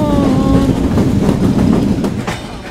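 Kapotaksha Express broad gauge train rounding a curve between Khulna and Jashore, a loud steady rumble of wheels on rails with rhythmic clatter and faint high squealing tones, no talk.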